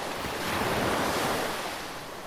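Sea waves at Dinahican Port in Infanta, Quezon wash steadily and loudly onto the shore, a continuous broadband surf roar with some wind buffeting the microphone and no voices.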